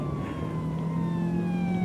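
A police car siren wails steadily in a Need for Speed chase, its tone sliding slowly downward over a constant engine rumble, loud and close with no talking.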